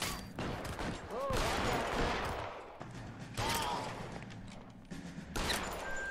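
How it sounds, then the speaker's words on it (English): Shotgun fire in L.A. Noire, a series of loud, broadband blasts spaced roughly a second or two apart, each with a sharp attack and rumbling tail, with a voice talking faintly between shots. "Oh, is that a shotgun?"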